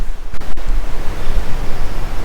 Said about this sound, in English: So the waterfall is literally over there.